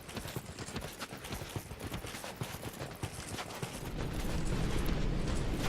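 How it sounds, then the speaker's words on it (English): Hoofed goat enemies charge in Dark Souls II with a rapid, clattering run of hoof beats that grows denser and louder toward the end, backed by game ambience. "Here come the goats."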